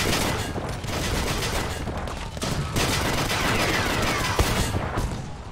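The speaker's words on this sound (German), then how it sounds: "Oh, der geht die Granate." A grenade blast in Battlefield V sits within continuous, dense gunfire and explosive bursts, loud and close throughout, with a sharper boom near the end.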